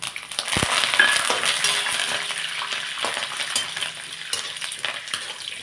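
Curry leaves and peanuts crackle in hot oil for chivda, a steady, close sizzle with light stirring and occasional sharp pops throughout.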